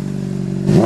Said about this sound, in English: Especially on this 2008 Honda CBR 600 double R.